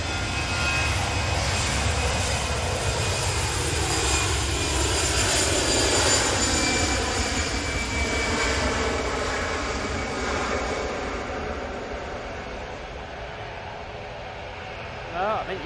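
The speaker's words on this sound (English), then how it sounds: "Oh, I think you can hear a prop." An Aer Lingus ATR turboprop runs its engines at an airport, a loud, steady drone with a pulsing propeller buzz that grows a little, then thins and fades away toward the end.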